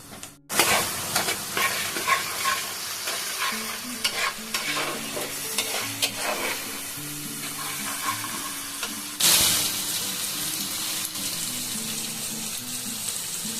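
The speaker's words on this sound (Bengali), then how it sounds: "আমি যে এখানে মশলাগুলো কষাচ্ছি" Spices being fried and stirred in a pan for a potato and pointed gourd curry with lentil fritters, a steady close sizzle broken by scraping spatula strokes and a louder burst partway through.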